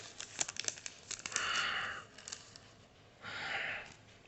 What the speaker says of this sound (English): Let's open up these packs of cards.